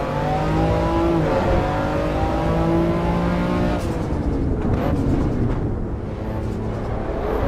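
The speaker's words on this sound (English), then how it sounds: "Nice little turbo chatter." A car in the racing game Assetto Corsa EVO revs through its gears with a droning, harmonic engine note, then lifts off to a fluttering turbo chatter in short, rapid bursts.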